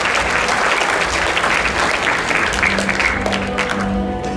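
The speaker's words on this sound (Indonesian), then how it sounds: "Ya, tepuk tangan." An audience at a motivational talk by Ramaditya Adikara claps in a dense, steady wash of applause that stays loud and continuous throughout, with no voice over it.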